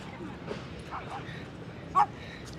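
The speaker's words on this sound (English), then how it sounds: "it sounds like this is the cool dog walking time." Dogs bark in a Manhattan park at dog-walking time. A few soft yips are followed by one short, clear bark over faint outdoor background noise.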